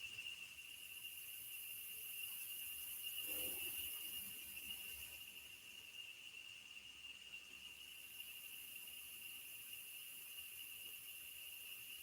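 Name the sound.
cicadas and fans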